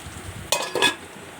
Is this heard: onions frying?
yes